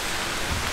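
Rain breaks out suddenly over a park in Bratislava as a storm hits, a dense steady hiss of falling water, even and moderately loud, with no voices.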